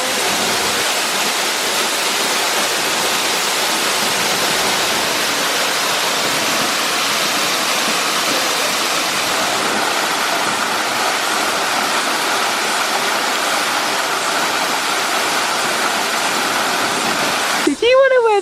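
A waterfall roars as a loud, steady broadband rush that fills the whole stretch, with no pause and no talk heard over it.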